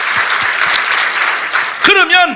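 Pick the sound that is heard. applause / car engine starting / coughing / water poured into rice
applause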